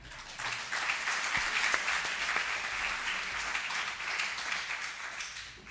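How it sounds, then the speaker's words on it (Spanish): Audience applause at a multiple sclerosis forum in Galicia, a steady wash of clapping from a seated crowd that holds evenly for about six seconds without pause. "Un aplauso para él."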